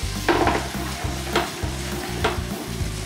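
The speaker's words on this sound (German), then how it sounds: "Deswegen richtig schön mit anbraten, den Ingwer." Ginger sizzles and fries steadily in a hot pan while being stirred for a barbecue sauce, with a dense, continuous crackle and several louder scraping stirs, close and loud, and no talking.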